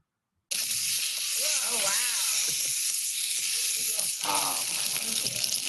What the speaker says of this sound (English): Sizzling steak at Peter Luger.